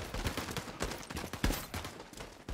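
Rapid gunfire in the shooter game World War 3, with a steady stream of shots and a few louder cracks heard at moderate volume, without voices.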